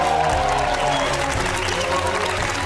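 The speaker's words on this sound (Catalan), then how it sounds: "Un aplaudiment." Studio audience on a Catalan television talk show applauding to welcome a guest for an improvised interview, a steady, full wash of clapping that runs unbroken through the whole moment, with a faint bit of background music beneath.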